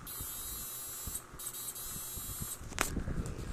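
A homemade PDC-type power inverter built with six 80NF70 MOSFETs runs under a 1000-watt test load, giving off a steady electrical hum with a high whine. The hum briefly dips, and a sharp clunk comes near the end.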